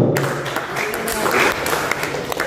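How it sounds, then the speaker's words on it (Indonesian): An audience at a film press conference applauds a producer with a brief burst of clapping, close and loud, mixed with a voice over a speaker system. "Tepuk tangan untuk Bapak David Suwarto"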